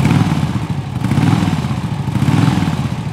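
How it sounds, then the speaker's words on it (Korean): A Harley-Davidson Dyna with a stock muffler idles steadily nearby, a low, even, fairly quiet engine rumble with a faint mechanical clatter and no revving. "그럼 제가 아이들링을 한번 해볼까요?"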